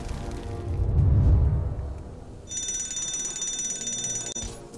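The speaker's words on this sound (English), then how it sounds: "Well, at least we know the fire alarm works." Fire alarm in the Marvel's Avengers video game, a steady high-pitched electronic ringing tone that starts abruptly and holds over low rumbling game ambience and machinery, fairly loud and without speech.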